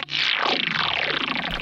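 Boss TE-2 Tera Echo guitar pedal with high effect level, dead-note strums smeared into a dense, shimmering wash of overlapping echoes that sweep and sustain steadily for the whole stretch, loud and alone.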